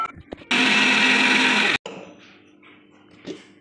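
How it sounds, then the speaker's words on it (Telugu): A kitchen mixer grinder blends chopped tomatoes with a little water into juice, running loud and steady for about a second before cutting off abruptly, followed by quieter jar clatter and handling. "ఈ టమాటాలో కాసిన్ని వాటర్ పోసి మిక్సీ చేసుకోవాలి."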